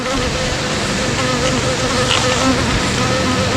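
Bees swarm and buzz densely around the front beehive area inside a bear fence, a loud, close, continuous drone with no break and no talking.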